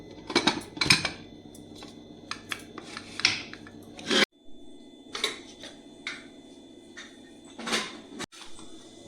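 Lid fitted onto a pressure cooker: a series of sharp metallic clanks, scrapes and rattles, close and fairly loud, with short pauses between the knocks.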